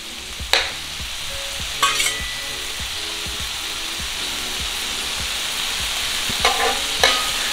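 Thinly shaved steak frying in a pan with vegetables, a constant close sizzle broken by a few sharp scrapes and clanks of a utensil stirring the meat, no voices.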